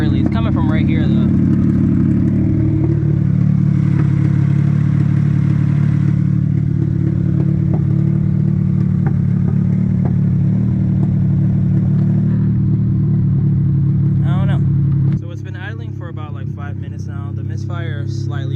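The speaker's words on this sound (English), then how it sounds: "that misfire is getting progressively worse" Honda Beat engine misfiring while driving, a loud, steady droning hum with irregular clatter from the cabin, which drops in level near the end, while someone talks over it.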